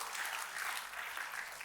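A church congregation claps and cheers for God during a sermon, a dense, continuous roomful of applause that stays even throughout, heard from a little distance with no voices standing out.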